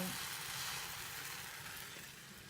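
A buttered croque-monsieur sizzles in a frying pan, giving a steady soft crackle that fades slightly toward the end.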